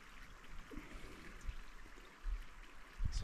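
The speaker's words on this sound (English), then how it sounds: "And the creek's right there." A forest creek flows steadily nearby with a soft, continuous trickling wash, faint and unbroken, with no talking.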